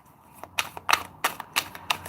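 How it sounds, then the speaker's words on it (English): Tarot cards being shuffled by hand, a run of crisp clicking riffles and taps arriving at irregular intervals, close and fairly quiet with no voices. "let's shuffle now for Cancer consciousness."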